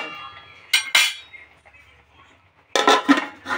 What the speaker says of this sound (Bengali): এভাবে ঢাকা দিয়ে দেবো।